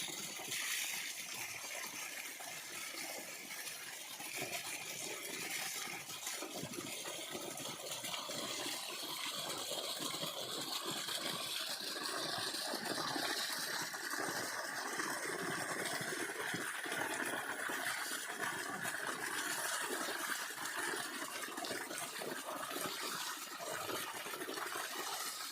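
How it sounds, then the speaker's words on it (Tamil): Bore water pouring out of a farm pump set into a channel, a constant close rushing and splashing that stays steady for the whole stretch without speech. "எப்படி தண்ணி குதிக்குதுங்க பாருங்க. பம்ப் செட்டில் தண்ணி எப்படி போகுது பாருங்க"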